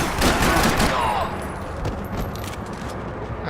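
Gunfire in the video game Max Payne 3, a dense burst of rapid shots up front settling into a continuous rumble of fire and action noise, with a voice audible in the mix.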